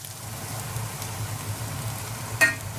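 Potatoes pan-frying in oil for a Burmese-style chicken curry, a soft continuous sizzle with a brief sharp clink of a utensil near the end.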